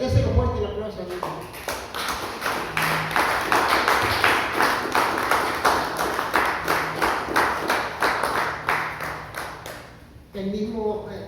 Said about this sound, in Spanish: Déselo fuerte el aplauso a Dios